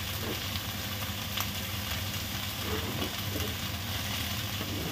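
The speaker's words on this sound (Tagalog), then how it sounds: "Yan, gisa lang natin siya ng solong gulay." Cabbage with beans and cauliflower sautéing in a pan with no meat, a steady continuous sizzle and frying crackle running unbroken throughout, close and moderately loud, with no voices.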